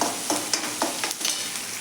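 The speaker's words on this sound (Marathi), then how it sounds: "हे आलं आणि लसूण कच्चेपणा जाईपर्यंत 1 मिनिटभर छान असं आपण यामध्ये परतून घ्यायचं आहे" Ginger and garlic paste sautéing in a pan for a dry soybean dish, with a steady quiet sizzle and a few soft scraping stirs spaced through the short stretch.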